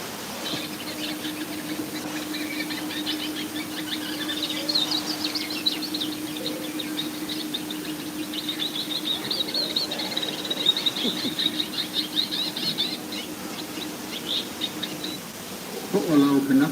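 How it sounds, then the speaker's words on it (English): Recorded Hawaiian forest bird songs, including amakihi and honeycreeper calls, play at a conservatory flower show exhibit, with faint chirps and trills over steady ambient hum and low background murmur throughout. "The voices of birds give the place a feeling of being inhabited."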